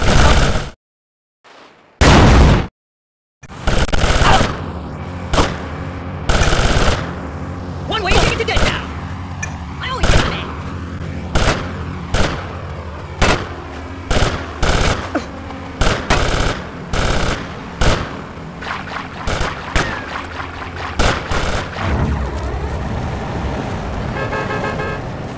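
Bursts of gunfire in GTA Vice City, with rapid repeated shots and loud pops over a game backdrop, broken by short silent gaps early on.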